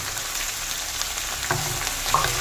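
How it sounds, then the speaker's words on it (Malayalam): Green chillies sauté with the ingredients for an okra mappas curry, giving a steady loud sizzle in hot oil with occasional stirring scrapes and clicks. "എല്ലാം കൂട്ടി വഴറ്റാൻ"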